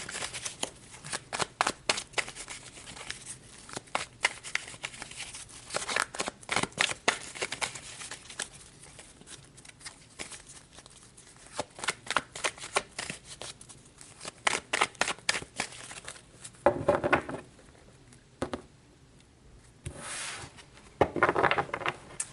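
Tarot cards being shuffled by hand, a series of quick riffling bursts and soft slaps, close and fairly quiet, with brief pauses between rounds.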